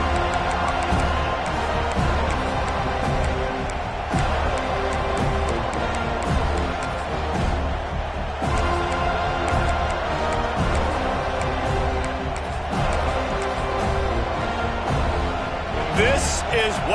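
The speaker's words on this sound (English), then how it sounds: "This crowd ready to make its presence known." Stadium crowd at a college football game in an NCAA 26 video game, a steady roar of cheering that holds loud throughout with a few rhythmic swells, while a commentator's voice runs over it.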